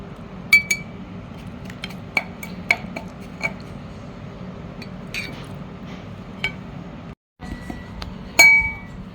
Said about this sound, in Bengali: জারের মধ্যে আজকে এখন আমি আচারগুলো ঢোকাবো।